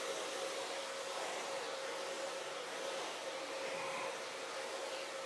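A hair dryer fitted with a diffuser blows steadily while drying and styling hair, a constant close airy roar with a faint steady motor tone and no speech.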